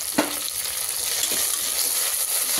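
Onions and tomatoes sautéing in a pan for mutton biryani, a steady sizzle with a few scraping stirs of a spoon, close and continuous, no talking.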